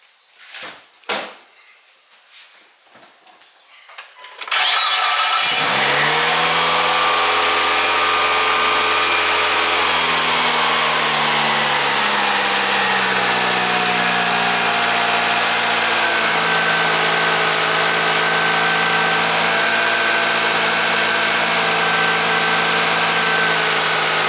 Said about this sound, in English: Still idling a little higher than I'd like to see